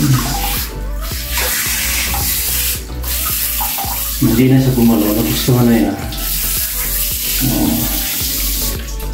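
Water splashes and runs steadily over a pet cat during its bath, a continuous close rush like a running tap, while a person talks over it now and then.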